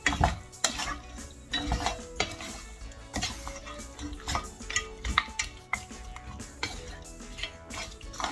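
Beef massaman curry with lemongrass being folded in a pot, with repeated clanks and scrapes of a utensil against the metal pot and a faint sizzle underneath, no talking.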